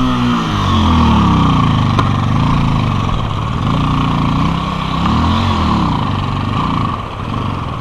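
A Crossfire 250 motorcycle engine labours in marshy mud on a Mustang mountain trail, running loud and close as it revs, rises and falls through several uneven surges.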